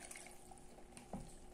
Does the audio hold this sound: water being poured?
yes